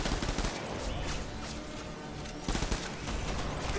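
Dense bursts of automatic gunfire rattle continuously in the Death Stranding video game, a loud barrage with a brief lull before another surge of shots.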